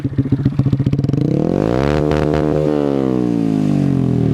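A Honda MSX125 with a can-style exhaust revs up, a lumpy idle rising into a sustained loud, roaring engine note held steady.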